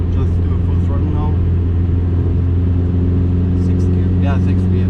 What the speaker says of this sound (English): Also driving on the track, just do a full throttle now.